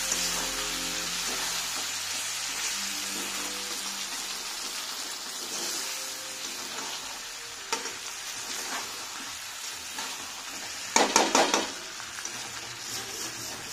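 Chilli chicken masala sizzles as it is sautéed and stirred in a pan, a continuous frying hiss broken by scraping stirs and a sharp clatter near the end.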